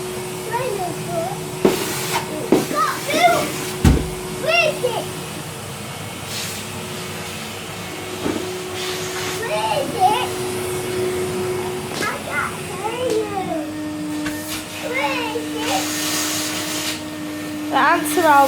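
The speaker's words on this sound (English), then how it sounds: "Go on, hoover up the mess." A vacuum cleaner hoovering up ants and mess indoors runs steadily for the whole stretch, its tone shifting lower partway through, while an adult and someone talk over it.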